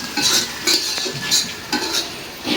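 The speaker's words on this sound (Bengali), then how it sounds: "এত পেঁয়াজটা আমি ভাজা ভাজাই করবো" Onions fry in a pan until crisp and browned for a buffalo-meat biryani, with rhythmic scraping stirring strokes about every half second over a soft sizzle, close and without voices.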